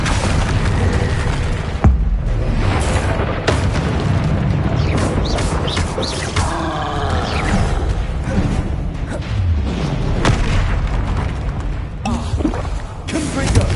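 Confringo spell blasts in a Hogwarts wizarding video game, loud booming bursts and whooshes repeating throughout over dense game noise, with a voice calling out spell names between the hits.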